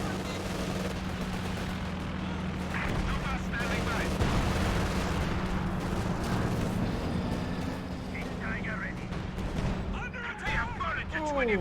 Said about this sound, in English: Panzer barrage wipes out the Ranger Thompson squad.